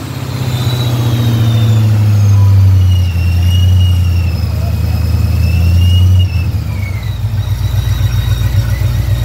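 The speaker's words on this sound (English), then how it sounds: "Clean sounding car." A loud supercharged Ford Shelby GT500 engine revving up and down in long pulls, with a high supercharger whine rising over the roar as it climbs.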